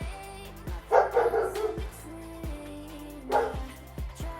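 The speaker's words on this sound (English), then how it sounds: "so now my dog is barking" A dog barks at a child playing outside, in two short bursts of several rapid barks, somewhat distant, over a low steady background hum.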